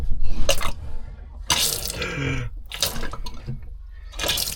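Water runs and splutters from a boat's taps into the heads after a water tank refit, coming in irregular bursts as air clears from the line, close and moderately loud.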